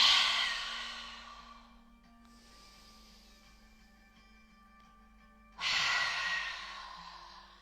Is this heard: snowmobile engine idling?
no